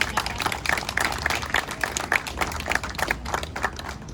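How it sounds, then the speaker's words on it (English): An audience at a keynote speech applauds, producing a steady, dense patter of clapping hands that stays moderately loud and even across the whole stretch, with no talk over it. "they deserve to hear our applause again"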